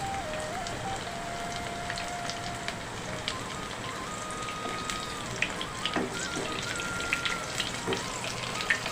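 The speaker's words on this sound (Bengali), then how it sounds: "এই দেখুন একটু লাল করে ভেজে নিতে হবে" Bitter gourd (karela) slices fry in hot oil, giving a steady soft sizzle and crackle with scattered small pops at moderate, fairly quiet level and no talk.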